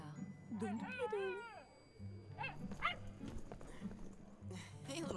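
Small cartoon dog barking, yipping and whimpering in quick bursts, close and fairly loud, mixed with other voices and background music.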